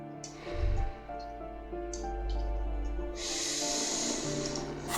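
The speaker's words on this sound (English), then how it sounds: "Someone's snoring." Snoring from a sleeping character in the video game Disco Elysium, a low rasping snort near the start followed by steady breathy hiss over a continuous game music bed, growing louder toward the end.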